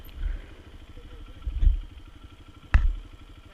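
Trail motorcycles on the Cisadon trail, a beginners' route for trail riding, rumble nearby with a low idling engine and a few revving bursts, while people talk in between.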